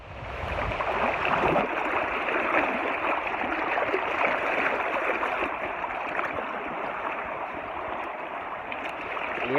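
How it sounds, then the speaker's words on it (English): A small river stream in Jamaica flows steadily nearby, a continuous soft rush and gurgle of water at even volume with no voices. "A river, yeah. Nice little stream."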